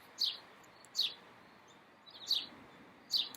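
A single bird repeats short, bright chirps outdoors, four calls spaced about a second apart over a faint background hush.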